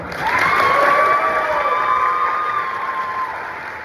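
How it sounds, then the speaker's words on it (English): An audience cheers and applauds honor band students at a GMEA District III Honor Band wind ensemble concert, a loud, steady crowd roar with whoops that swells at once and holds before easing slightly. "so please give them a round of applause"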